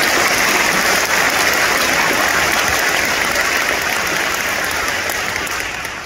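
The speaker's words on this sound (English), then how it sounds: "let's give them a great big round of applause" Audience applause for the teachers at a 2021 graduation event in Grand Haven, a loud, steady wash of clapping from a large crowd that holds throughout and fades slightly at the end.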